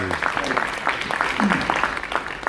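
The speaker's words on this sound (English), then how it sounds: "So clap for that too" Audience claps steadily in a dense patter, with voices talking faintly underneath.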